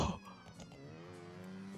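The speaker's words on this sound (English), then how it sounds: "I heard sirens." A police siren wails in the BeamNG.drive driving game, its steady tone faint and held low, alone without talk.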